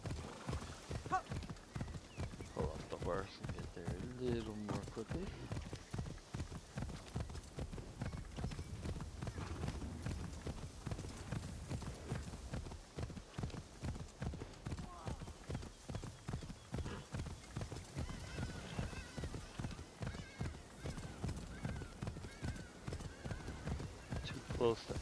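Horse hooves gallop in a steady rhythmic clip-clop through the Assassin's Creed Shadows video game, with an occasional whinny and speech heard over the running hoofbeats.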